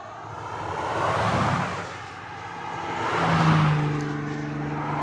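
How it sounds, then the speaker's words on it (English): Several cars pass along a road near a trailhead on the Santa Rosa Plateau, two swelling whooshes of tires and engines that rise and fade, moderately near, with no voices. "we gotta wait for these cars"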